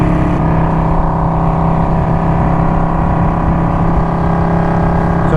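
A Yamaha Star Venture touring motorcycle engine drones loudly and continuously nearby, holding a steady throaty rumble as it accelerates.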